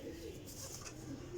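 Soft, low cooing from a desi pigeon, a continuous murmuring call close by with faint rustle and background noise.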